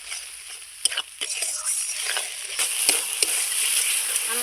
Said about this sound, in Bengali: মশলাটাকে খুব সুন্দর করে লাল করে ভেজে নেব